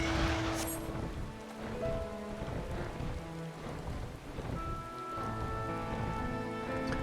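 Steady rain pours in the game Final Fantasy XIV, a dense continuous hiss with low thunder-like rumbles and music woven through, with no voices.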